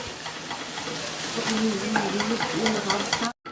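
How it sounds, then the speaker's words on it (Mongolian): Minced meat fries on low heat in a pan, a steady soft sizzle broken by repeated scraping strokes of a spatula stirring it, close and continuous. "дээрэс нь зөөлөн гал дээр жоохон шарж агаад машинцэн махнаасаа хийгээд"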